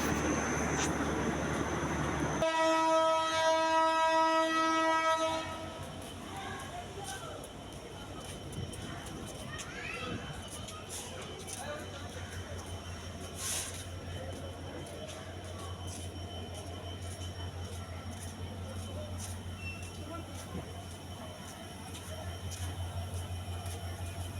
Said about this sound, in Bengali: আমরা এসে নামলাম যেই ট্রেন, সেটাও আবার রওনা দিয়েছে তার গন্তব্যস্থানে